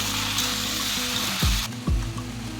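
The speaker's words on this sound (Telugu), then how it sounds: "ఇటు సైడ్ వచ్చేసి బెండకాయలు కూడా చూడండి వేగుతున్నాయి" Okra frying in a pan of hot oil gives a steady, continuous sizzle throughout, with a couple of brief low thumps partway through and no talking.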